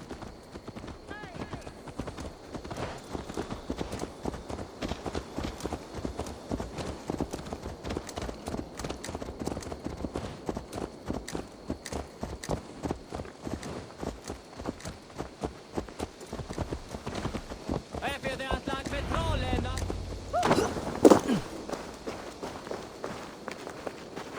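Horse hooves clip-clop steadily at a walking pace in Assassin's Creed Valhalla, a rhythmic run of footfalls under game speech, picking up near the end.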